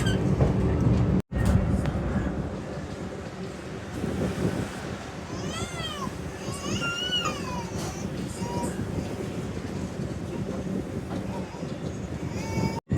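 The Barauni–Gondia Express moves near Chhapra railway station with a steady loud rumble and clatter, and high squealing tones rise and fall midway through.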